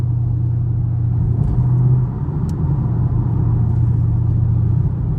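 Chevrolet Camaro SS in track mode cruising through traffic, a steady loud low engine rumble with a slight swell partway through and no revving peaks.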